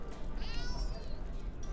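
A cat meows in Divinity: Original Sin on Xbox One, a short rising cry heard once over steady game ambience and low background noise.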